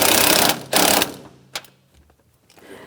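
A 3/8 ratchet with a 13mm swivel socket tightening a bolt under the hood of a 1992-1996 Ford F-150, giving loud close bursts of rapid clicking followed by a few fainter clicks.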